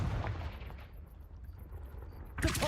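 The Confringo fire spell going off in Hogwarts Legacy on PS5, a muffled blast rumbling faintly before a sharper burst erupts at the end.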